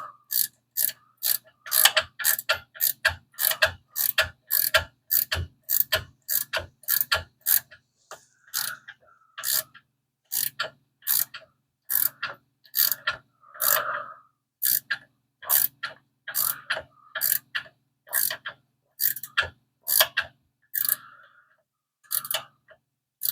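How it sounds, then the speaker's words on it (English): A ratchet wrench tightening a factory Hurst Competition Plus shifter under a Mopar A-body car, with long runs of rapid metallic clicks in bursts and short pauses between them, close and clear. "So let's tighten that up. I got the wrench under here yet."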